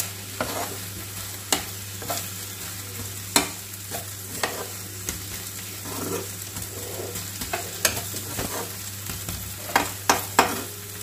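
Shredded cabbage filling for chicken samosas frying dry over high heat, with steady sizzling broken by sharp scrapes and clacks of a spatula stirring the pan at irregular intervals, close and fairly loud, no talking.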